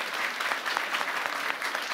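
An audience at a live comedy club show breaks into brisk, dense applause, many hands clapping together steadily at full volume for a couple of seconds.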